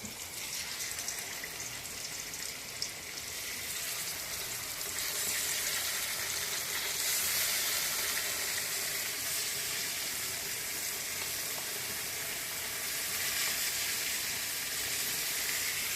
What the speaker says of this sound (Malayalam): ഇപ്പം മീൻ വറക്കാനായിട്ട് ഇടുക.